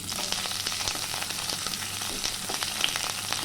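Chopped onion fries in hot white oil in a kadai, a continuous even sizzle with light crackles, fairly quiet and steady throughout.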